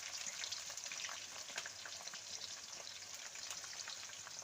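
Onions and green chilies fry in a pan for Nagpur-style tarri poha, a continuous crackling sizzle with scattered pops, quiet and close with no voices.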